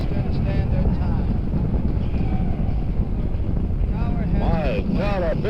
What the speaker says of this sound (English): Our building's shaking. The roar is terrific.